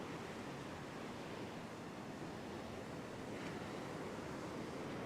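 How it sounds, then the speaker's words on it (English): Big wild surf breaking continuously along an open fishing beach, with the swell rolling in from the north; a steady, dense roar of waves with wind buffeting the microphone and no talk. "the swell, the waves are coming a little bit from the north"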